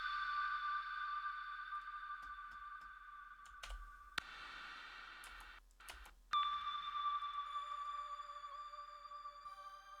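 A smeared, washy synth tone with long diffuse echoes blending into a reverb-like wash, steady sustained notes with a brief break midway.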